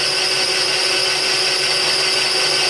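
A machine tool cuts metal shanks with a loud, steady, high-pitched whine and hiss that continues unbroken at close range, with no one talking.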